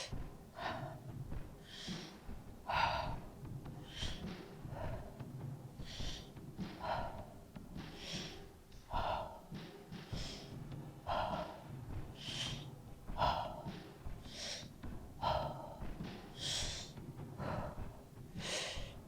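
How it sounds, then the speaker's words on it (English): Strong, rhythmic mouth inhales and exhales from energizing beginner breathwork repeat steadily and close, each sharp suck of air like drawing through a straw, with no talking over them. "If you're breathing through the mouth, feel like you're sucking in through the straw."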